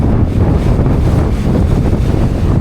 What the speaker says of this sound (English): Wind is about 20 knots, and the apparent wind angle is 60.